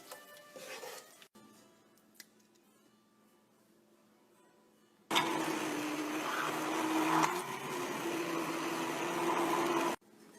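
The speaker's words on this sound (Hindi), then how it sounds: "इनको ठंडा करके ग्राइंड कर लेते हैं।" A mixer grinder whirs loudly as it grinds cooked tomato, onion, garlic and ginger into masala, a dense, steady roar running for about five seconds after a quieter stretch, then cutting off abruptly.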